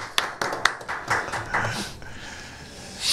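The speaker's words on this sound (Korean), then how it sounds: "박수 좀 쳐줍시다" Studio guests on a Korean political talk program clap briefly, a few sharp hand claps at the start that soften into a thinner patter before fading, with a voice faintly present underneath.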